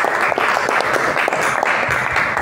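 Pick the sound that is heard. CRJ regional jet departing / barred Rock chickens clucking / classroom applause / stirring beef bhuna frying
classroom applause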